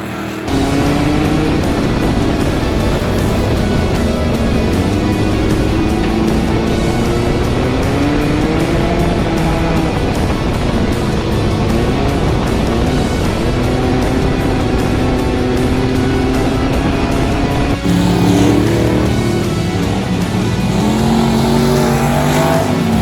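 A dirt-track racing Toyota Camry roars steadily and loudly close by, engine revving up and down through laps of hard, aggressive driving, with no talk.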